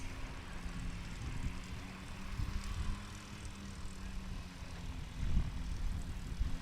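Small STOL propeller aircraft flying at the Sodbusters STOL competition in Hartford, Wisconsin, a steady low engine drone from the air that swells louder toward the end, with no talk over it.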